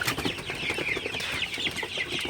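Sonali super hybrid chickens in a poultry shed at night, a flock clucking and chattering continuously at close range, overlapping calls in a busy, steady rhythm.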